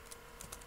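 Quick, light keystrokes on a computer keyboard while writing code, a few soft clicks spread over under a second with no speech.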